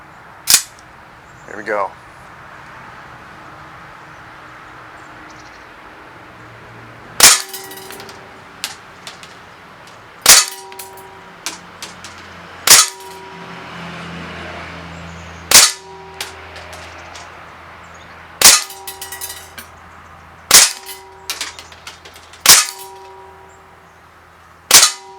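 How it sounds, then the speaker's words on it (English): A Sig Sauer X-Five P226 CO2 BB pistol fires eight sharp, snappy shots at a target in an irregular rhythm over a quiet room tone, with a brief spoken word before the shooting. "We're going to shoot 8 rounds into this target, and we're going to see how well we do."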